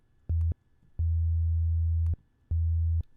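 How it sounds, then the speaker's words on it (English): A pure sine wave tone from an FM8 synthesizer sounds in three separate bursts, a short one, a longer sustained one, then another short one, clean and loud with silence between. "sine wave."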